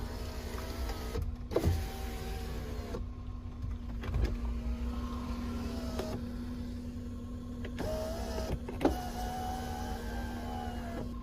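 A VW MK5 power window is run up and down with a new aftermarket window switch inside the car, giving several steady electric motor whines separated by soft switch clicks and thumps as the glass stops.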